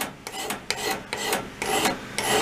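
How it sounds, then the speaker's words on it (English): A metal file rasps across a tree pruner blade clamped in a vise: steady back-and-forth grinding strokes, about five in a row, close and fairly loud with no talking. "But these are really good files."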